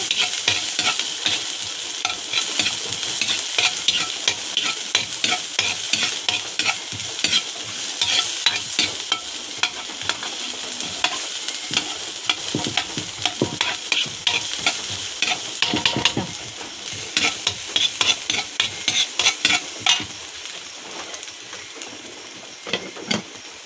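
Onion fries in a hot pan for pansit with a steady crackling sizzle, and a utensil stirs and scrapes throughout. The sizzling holds at a fairly even level with occasional louder scraping bursts, and no talking.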